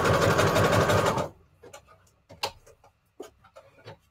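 A sewing machine stitching fabric scraps together for Christmas embellishments runs loud and steady for about a second, then stops, leaving scattered quiet clicks and handling taps.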